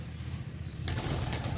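Domestic pigeons in a home loft cooing low and soft, a steady murmuring coo that swells slightly in the second half, with faint rustling and no talk.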